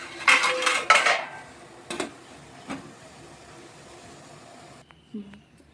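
A pot being covered to steam banana flower rolls: a few sharp metal clatters and clinks of lid and utensils up close, then quieter scattered knocks over a low background hum.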